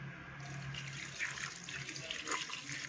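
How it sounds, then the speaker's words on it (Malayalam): Water runs steadily from a tap into a cooking pot, a soft continuous splashing stream heard up close. "ഇത്ര വെള്ളം നമുക്കിതിലേക്ക് ഒഴിച്ചു കൊടുക്കാം"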